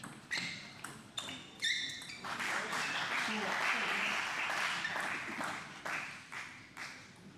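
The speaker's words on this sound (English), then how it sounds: "there are more fans now cheering for Melissa than there are for Melvin Richmond" A crowd at a table tennis team finals match in Australia bursts into applause and cheering in bursts, a dense clapping roar swelling in the middle and fading, with a commentator's voice talking over it.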